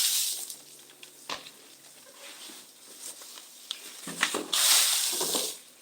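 Water is thrown and splashes, giving faint irregular patters and hissing splashes at a distance, with a louder rushing splash near the end and no talk.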